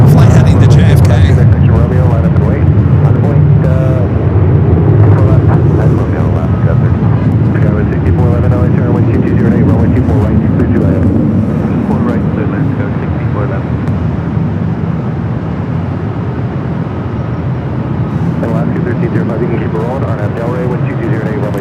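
A Delta Boeing 767-300ER jet roars at Los Angeles International Airport, a loud, sustained low rumble that eases slightly over time as a voice talks over it.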